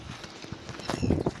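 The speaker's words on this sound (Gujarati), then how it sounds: "ગાય માતા આગળ આગળ જાય છે ને," Cows walking along a path toward the hills, their hooves clopping in an irregular, uneven rhythm that grows denser and louder toward the end.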